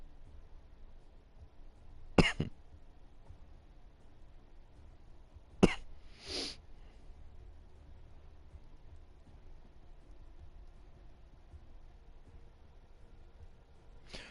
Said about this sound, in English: Normally I would mute these dry coughs